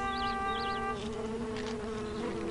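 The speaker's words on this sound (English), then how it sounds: "He means that bee buzzing over all the flowers." A bee buzzes over flowers, a faint, steady insect drone with a brief warbling rise near the start, heard alone in a quiet outdoor setting.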